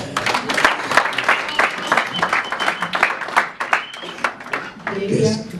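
A church congregation claps in a dense, steady patter of many hands, joined by voices and cheers throughout, with the crowd noise swelling slightly near the end.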